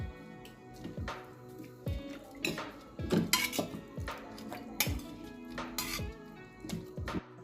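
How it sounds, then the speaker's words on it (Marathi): Pressure-cooked vegetables for pav bhaji mashed in a metal pot, with repeated rhythmic thuds and clanks of the masher striking the vessel, close and moderately loud, about one blow per second. "आता आपण ह्याला स्मॅश करून घेऊ"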